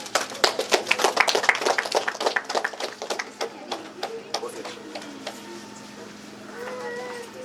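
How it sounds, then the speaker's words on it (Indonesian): Applause from a crowd at a regent's inauguration of a clinic and preschool in Dekai, Yahukimo, with dense, fairly close hand claps that build, then thin out and fade, while a voice speaks faintly near the end. "Tepuk tangan."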